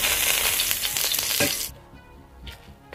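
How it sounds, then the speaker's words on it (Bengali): Dried red chillies and bay leaves frying in hot oil give a loud, dense crackling sizzle that abruptly drops to a quieter simmering hiss partway through, with a brief flare of sizzle near the end. "তেলটা গরম হয়ে গেছে, 5টা শুকনো লঙ্কা নিয়েছি। এই শুকনো লঙ্কাটাকে ভেজে নিচ্ছি।"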